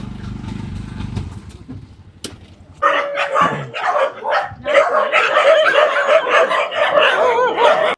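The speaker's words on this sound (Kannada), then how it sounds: "ಕುತ್ತಾರಲ್ಲಿ ರಜನಿ ಪೂಜಾರಿ ಅಂತ ಸುಮಾರು 50ಕ್ಕಿಂತ ಹೆಚ್ಚು ಬೀದಿ ನಾಯಿಗಳನ್ನ ರೆಸ್ಕ್ಯೂ ಮಾಡಿ" Rescued street dogs bark and yip in a loud, dense chorus after a short low rumble, the barking continuous and close throughout.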